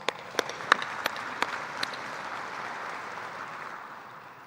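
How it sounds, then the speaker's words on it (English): Banquet audience at a late model dirt racing series event applauds the sponsors: a few sharp individual claps ring out at the start, then settle into an even, moderately loud wash of crowd clapping that tapers gradually. "Please give them all a round of applause."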